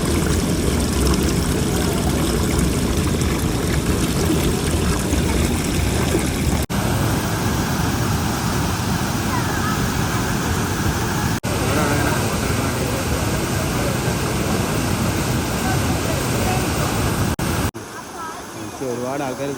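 A waterfall pours in a steady, continuous rush, loud and broadband throughout and dropping off slightly near the end, with no talk.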